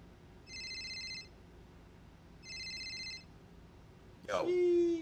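A phone rings in the game GTA RP, two evenly spaced electronic ring bursts about two seconds apart, clear and moderately loud, followed by a brief voice exclamation at the end.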